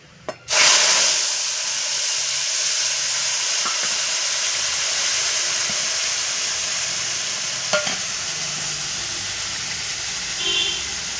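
Mustard, poppy seed, dried and green chilli, tomato and garlic paste drops into hot oil with a sharp burst, then settles into a steady, loud sizzle and hiss that lasts throughout, with faint stirring.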